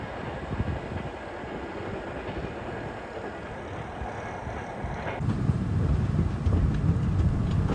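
Ahmedabad–Asansol Superfast Express rushing past at a station, a steady loud rumble and clatter of wheels and coaches that swells louder and closer toward the end, with no voices.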